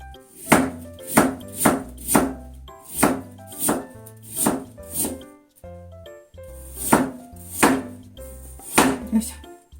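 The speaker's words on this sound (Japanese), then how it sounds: "生姜は千切りにして皮付きのまんまでいいでしょ" A knife julienning unpeeled ginger on a cutting board for cucumber and ginger pickles, giving crisp, loud chops in quick bursts of three to five strokes, separated by short pauses.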